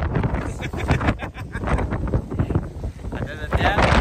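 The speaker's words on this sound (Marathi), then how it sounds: "आता सध्या इथं वारं एवढं आहे ना" Strong gusts buffet the microphone near a waterfall in Kolhapur, a loud continuous roar of wind and rushing water with someone talking over it throughout.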